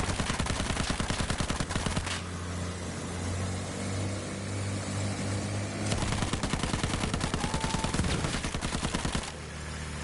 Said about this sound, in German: ich schieß gerade auf ihn und das trifft nicht